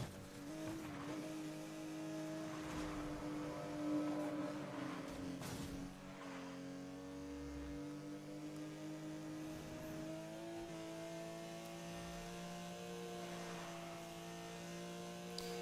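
Race car engine from Need for Speed: Most Wanted, a continuous revving drone whose pitch rises and shifts with gear changes, plus brief thumps and tire noise from collisions, fairly quiet, with no talking.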